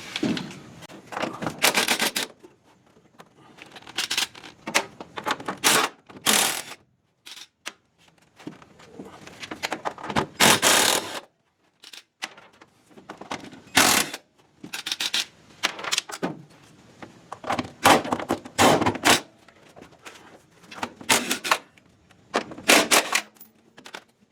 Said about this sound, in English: We're going to remove all 7 of the bolts.